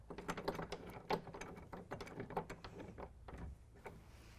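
A bolt is threaded through a retractable tonneau cover clamp into the deck rail insert of a 2016 Toyota Tacoma, giving a faint, uneven series of quick ratcheting clicks and small metallic knocks close by.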